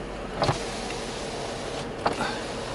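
A classic Mercedes W140 limousine's power window motor whirs steadily with a constant hum, broken by a couple of soft clunks and thumps, heard close inside the car; the window does not close all the way.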